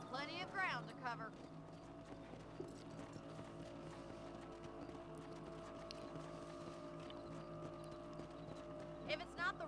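Steady clip-clop of horse hooves trotting along in Red Dead Redemption 2, moderately loud, with background game music and a voice speaking briefly near the start.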